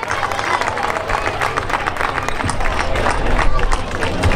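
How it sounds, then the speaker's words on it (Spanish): Crowd applause with scattered cheers at a mountain-bike race awards ceremony honoring the Futuro Bike series leader, steady clapping from many hands, a dense continuous wash that swells slightly toward the end. "Fuerte el aplauso de todos los presentes"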